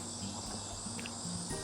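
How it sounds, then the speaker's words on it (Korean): Cicadas sing on a summer walk in Korea, a faint, continuous high buzzing drone with steady tonal bands, no voices, at a low even level. "매미 소리가 이제 조금씩 들리네요."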